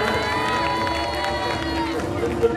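Loud applause from a crowd at a Ramlila awards ceremony in Azadpur, a continuous dense clapping wash under a voice speaking over a sound system throughout.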